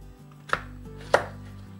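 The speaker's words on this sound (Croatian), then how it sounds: "malo ću ovako na kocke" A knife chops a zucchini into cubes on a board, giving two distinct sharp chops about half a second apart over a quiet background with no talking.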